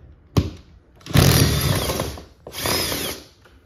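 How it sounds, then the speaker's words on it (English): A power drill backs out the old bolt on a garage door bracket while a Chamberlain opener is being installed: a short sharp burst, then two longer loud whirring runs close by, with no talking. "much better when you use power tools"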